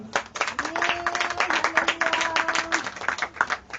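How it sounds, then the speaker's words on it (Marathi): A church congregation claps during a sermon, a dense burst of rhythmic clapping with a sustained musical tone running underneath. "टाळ्या नाही वाजवणार तुम्ही?"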